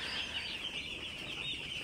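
Broiler chicks in a curtained chicken house keep up a continuous high chirping chorus, many birds peeping together at steady volume with no talking.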